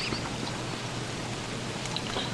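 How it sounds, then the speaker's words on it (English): Steady rain in the video game Don't Starve, a continuous even hiss of falling water that stays constant throughout with no talking. "It is raining."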